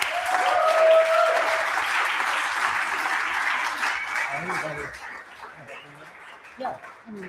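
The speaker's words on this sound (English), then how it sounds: "Let's get a big round of applause for one of the key members of the legal team" A conference audience applauds loudly, dense clapping fading gradually over several seconds, with a few voices and a whoop near the end as the applause dies away.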